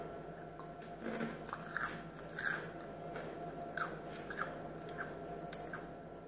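Crisp bites and steady chewing of a crunchy Tochi Hot Stuff spicy snack, close to the mic, with sharp crunches spaced every second or so over soft mouth noise.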